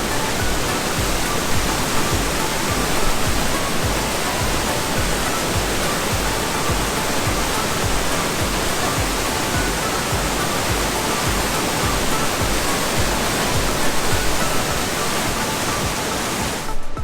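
Waterfall at the base of the falls below Cleos Bath near Pinecrest, a loud, steady, full-band roar of rushing water filling the whole stretch without a break.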